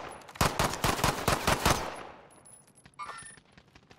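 Machine gun fire in Call of Duty: Modern Warfare: a loud, close burst of rapid shots lasting over a second, then a fading echo and scattered distant gunfire.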